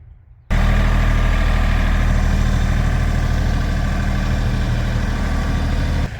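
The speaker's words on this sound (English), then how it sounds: "I'm going to get the tractor" A tractor engine starts abruptly and settles into a loud, steady, low-pitched idle that runs evenly for several seconds before cutting down near the end.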